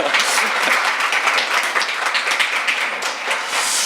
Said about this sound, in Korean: 박수 한번 주시면 좋을 것 같아요